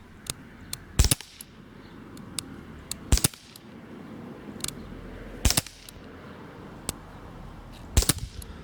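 Single gunshots from a firearm fired outdoors at a range, five sharp cracks spaced irregularly a couple of seconds apart over a quiet breezy background, with a few fainter ticks between.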